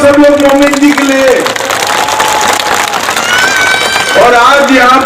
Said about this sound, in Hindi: अब 1 मिनट के लिए ताली बजाओ सब लोग मोमिन जी के लिए।